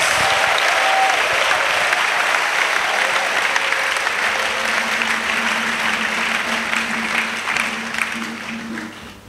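A church congregation at a missionary send-off service in Côte d'Ivoire breaks into loud sustained applause and cheering, a dense wall of clapping that gradually fades, with faint musical tones and voices underneath.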